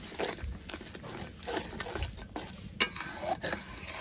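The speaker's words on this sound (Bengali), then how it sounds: "এরপর হচ্ছে এটাকে ভালো করে একটু কষিয়ে নেব" Spices with chili powder are stir-fried in a pan: a scraping spatula stirs in irregular strokes over a light sizzle, with one sharp metallic clink partway through.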